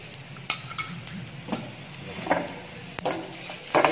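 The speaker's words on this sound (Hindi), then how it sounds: "इसे हमें अच्छे से भून लेंगे" Masala of kitchen king powder, turmeric and coriander powder roasted in a pan for bread pakora filling: scattered spoon clinks and scrapes over a faint, low sizzle, close by and without speech.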